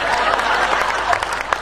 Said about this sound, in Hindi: अब तुम भी कुछ ताली बजाओ